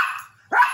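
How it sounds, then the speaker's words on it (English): A pet dog barks twice, close and sharp, with a brief quiet gap between the short yips. "You can't be barking and demanding."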